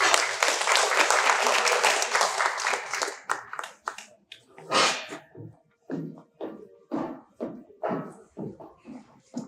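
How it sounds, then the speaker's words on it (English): An audience applauds a credit union sponsor's representative at an event, a dense burst of clapping that thins into scattered claps and then gives way to someone talking. "Brandy Hua, please give her a round of applause."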